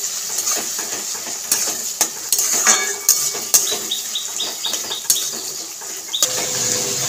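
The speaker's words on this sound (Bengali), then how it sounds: "টমেটোটাকে একটু ভেজে নেব।" Tomatoes being stirred as they fry in a pan with onions for Bengali tilapia jhal: repeated metal spatula clinks and scrapes against the pan over a light frying hiss, close and fairly loud, without speech.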